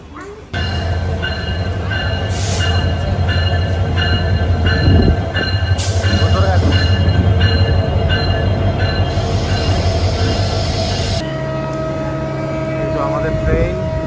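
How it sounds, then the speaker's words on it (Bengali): The Parjatak Express passenger train stands at platform number 5, with a loud rumble, clanking and squealing wheels and a sharp horn-like tone, while people talk nearby. "এই যে পর্যটক এক্সপ্রেস আমাদের ট্রেন, প্ল্যাটফর্ম নাম্বার 5"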